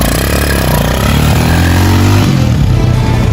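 A 250cc Pentora ATV engine fitted with a PWK 30mm carburetor runs loud and close, a steady idle that swells slightly toward the end, with no voices over it.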